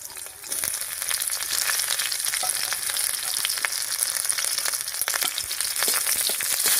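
Crushed garlic cloves, black cumin and two slit green chilies sizzle steadily in hot oil in a pan, a close, continuous bright frying crackle with small pops and no talking.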